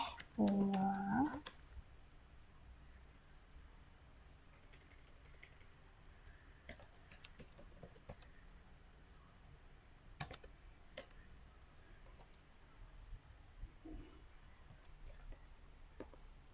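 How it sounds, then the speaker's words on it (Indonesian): Typing on a computer keyboard in scattered, soft clicks and key taps, some louder strokes standing out. Brief talking at the start, then mostly quiet keystrokes. "di sini berarti kita bisa ketik Far boleh pulang"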